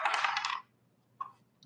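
A single die tumbles and rattles across a Shut the Box game board in a dense half-second burst, then falls quiet before two faint, sharp clicks as it settles.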